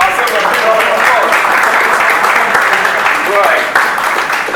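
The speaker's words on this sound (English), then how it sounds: "let's give ourselves a big round of applause" A loud, continuous round of clapping rises from an audience at a traditional marriage event, steady and close throughout, with faint voices mixed in.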